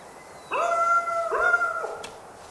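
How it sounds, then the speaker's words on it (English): A dog howls in the Way of the Hunter 2 hunting video game, giving two long, sustained, wavering howls in a row, the second following closely after the first, loud and alone against a quiet background. "We could try use the thunderous dog."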